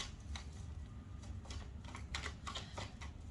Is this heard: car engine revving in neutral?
no